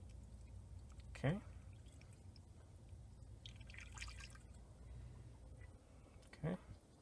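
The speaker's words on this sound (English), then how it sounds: "you just want to make sure you pour this in slowly." Gumout intake cleaner is poured slowly into a warmed-up car engine, a soft liquid trickle under steady low engine hum, with two brief clearer drip splashes and a person talking quietly.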